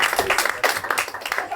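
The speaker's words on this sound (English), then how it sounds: "Clap it up." A comedy club crowd claps for a comedian taking the stage, short uneven bursts of clapping that rise and dip in loose pulses, with a few voices mixed in.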